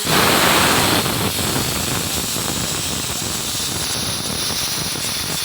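Steam hissing strongly from a pressure cooker as its lid comes off after the gas is turned off, a loud broad rush that eases slightly and then holds steady.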